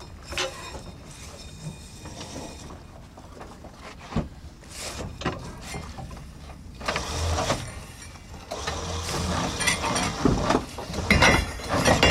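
Mechanical whirring, clanks and rattling from an electric winch hauling scallop dredges aboard a boat, intermittent at first and growing louder and busier toward the end, with no talk.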